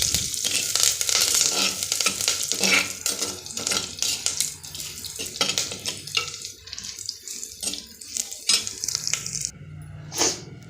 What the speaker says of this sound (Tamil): தேவையான அளவு கறிவேப்பிலையும் போட்டு வதக்கிக்கலாம்